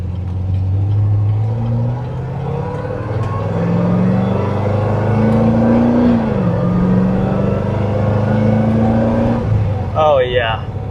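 A cammed Corvette Z06 with a billet lid idles and revs with its exhaust valves open in sport mode, a loud, close, lumpy rumble that rises and falls, with some speech over it.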